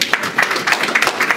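A church congregation claps for the Lord during a Spanish-language sermon, a dense, steady patter of many hands filling the room for a brief moment, fairly loud and without talk.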